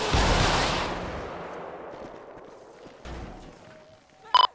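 A single loud gunshot blast opens a shootout in the game GTA 5 with a police officer and a suspect, its boom decaying slowly, followed by a softer thud and a brief sharp electronic beep near the end.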